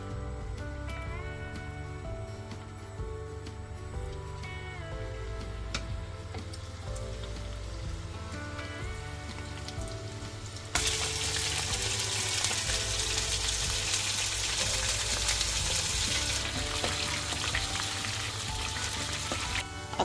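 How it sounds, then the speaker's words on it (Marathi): Battered squid rings frying in hot oil, a continuous close crackling sizzle that grows louder and denser about halfway through, with no talking. "आतां आमी त्यो फ्राय करून घेया."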